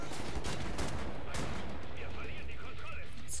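Gunfire in the first-person shooter Wolfenstein: The New Order, a dense loud volley of shots and blasts at the start that thins into scattered rounds and game effects.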